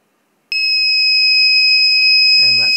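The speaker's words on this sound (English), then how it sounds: "you'll get a nice loud beep so you can find your plane" A loud, continuous high-pitched electronic beep from a lost model plane finder starts abruptly after a short silence and holds steady, with a voice briefly joining near the end.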